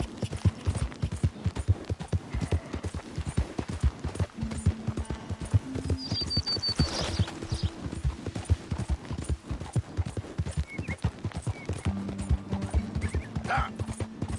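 Steady, rapid clip-clop of a galloping horse's hooves in a video game, loud and continuous, with an occasional whinny and brief game tones over the rhythm.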